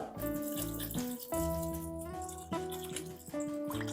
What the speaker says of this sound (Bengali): এবার আমি এর মধ্যে দিয়ে দেব পরিমাণ মতো আড়াই কাপ জল